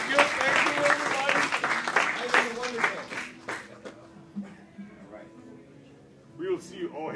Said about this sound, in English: I'd like to even give Ivan a round of applause, too, for everything that he's done.